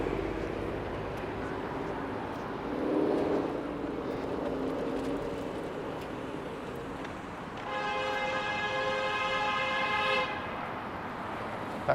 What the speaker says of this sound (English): That car was honking at that idiot illegally parked in front of the Chipotle over there.